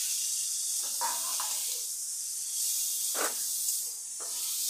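Taro pieces hit hot spiced oil seasoned with turmeric and Kashmiri chili powder, giving a continuous bright hiss of frying with a few small pops and crackles, steady and close throughout.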